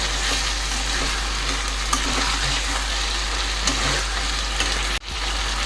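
Mutton curry sizzles steadily in a pan with oil, a constant close frying hiss with faint stirring scrapes, cut briefly near the end by a short drop.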